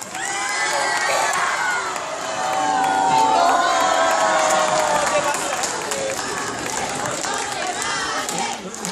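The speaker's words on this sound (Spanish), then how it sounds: "Un aplauso para la señora, venga." Theater audience at a Chilean Teletón show cheering, shouting and applauding for a woman in the crowd, a loud sustained roar of many voices throughout with a voice over it.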